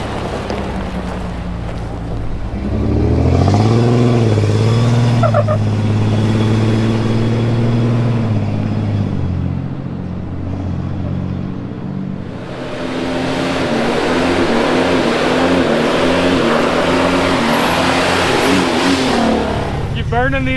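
A modified Jeep revs its engine hard while spinning its tires to scrub them for traction, the engine note rising and falling in long surges over heavy wind buffeting on the microphone.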